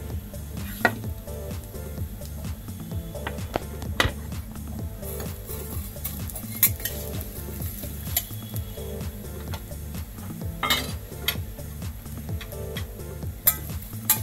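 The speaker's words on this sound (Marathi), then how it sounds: "ह्या इथे मी कच्च्या शेवया घेतल्या, त्याच्यामुळे मी इथे तुपामध्ये ह्या थोड्या भाजून घेणार आहे" Raw vermicelli being roasted in ghee in a pan for kheer, stirred steadily, with a soft continuous sizzle and frequent light scrapes and clicks of the spoon against the pan, close and moderately loud.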